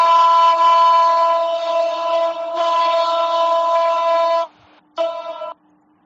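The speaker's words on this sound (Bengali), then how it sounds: "ভাই ট্রেনের জন্য একটু লাইন কিছুক্ষণ অফ" A passing train sounds a loud, sustained horn blast nearby that dips briefly partway through and then cuts off, followed by one short final blast.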